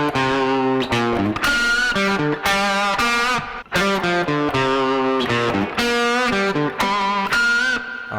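Distorted electric guitar plays a fast rock lead lick from a guitar solo, with hammer-ons and squealing pinch harmonics ringing out in short bursts, loud and close.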